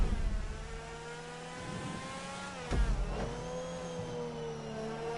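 A car engine revs up and settles in GTA Online, the vehicle having a small central exhaust and a glass-heavy roof; steady harmonic drone with rising pitch sweeps, a brief thump near the middle, no voices.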